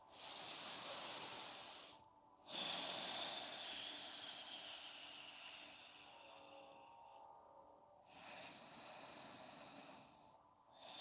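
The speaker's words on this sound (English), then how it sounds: "Relax your feet and breathe through your nose." Long, deep breaths drawn in and out through the nose during a yoga session, soft airy whooshes in slow cycles, close and quiet.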